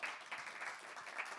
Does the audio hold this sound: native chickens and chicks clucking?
no